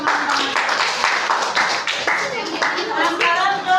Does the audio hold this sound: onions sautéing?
no